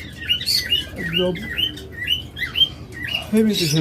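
Pet lovebirds and cockatiels chirp and tweet in quick, rising bursts close by, with an occasional harsher squawk breaking through the chatter.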